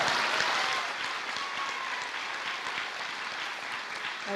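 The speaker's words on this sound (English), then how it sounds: "Let's give him another round of applause." Audience at a high school graduation ceremony giving a sustained round of applause, many hands clapping in a dense, even roar that keeps its level from start to finish.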